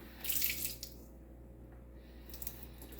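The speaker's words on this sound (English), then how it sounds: "Now, I'm going to add just a little water in here, just a little drop of water." Water runs into a bowl of apple pie filling in a home kitchen. It is a short, soft splashing pour lasting under a second, followed by quiet.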